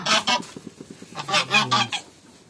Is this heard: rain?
no